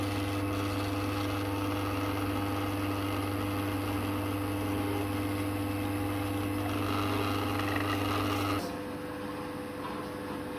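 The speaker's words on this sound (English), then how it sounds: "I'll turn the machine on. And very slowly moving the pillar drill down." A pillar drill drones steadily with a constant low hum and grinding texture as it bores through HDPE plastic, then drops in pitch near the end as it slows.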